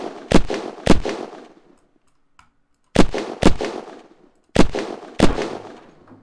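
Pairs of heavy gunshots strike a wall during a raid in the game Unturned, five sharp bangs in clustered bursts with a brief quiet gap between groups, loud and close.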